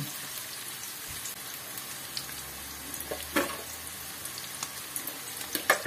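Sliced onions fry in a pan with sugar, whole garlic cloves and salt, browning down: a steady close sizzle with scattered pops and a few louder stirring clicks toward the end, no voices.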